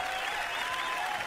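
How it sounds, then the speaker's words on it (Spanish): Brief burst of audience applause at a live Argentine streaming talk show, a dense steady wash of clapping throughout with no talk over it. "por favor, un aplauso para él"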